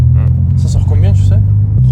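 A Nissan 350Z V6 engine rumbles loudly and steadily from inside the moving car, with a deep constant drone. People talk over the engine.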